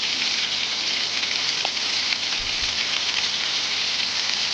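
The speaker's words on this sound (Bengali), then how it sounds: "তেল গরম বসিয়ে দিয়েছি একদিকে কড়াতে। এবার এক একটা করে দিয়ে ভালো করে ভেজে নেব।" Chicken pieces for chilli chicken fry in hot oil in a kadai, giving a steady, close crackling hiss that holds evenly throughout with no talk.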